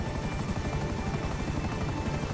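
A helicopter in GTA V Online during a prison break mission, a close, loud rotor chop with rapid steady blade thumps and a whining turbine, running the whole time with no talking.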